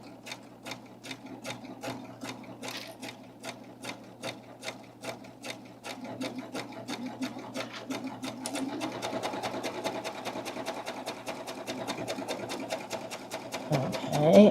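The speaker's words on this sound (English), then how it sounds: "So we're just going to sew across there." A sewing machine run by foot control stitches across the edge of fabric, its needle tapping in a fast, steady rhythm that picks up speed partway through and carries on close and alone.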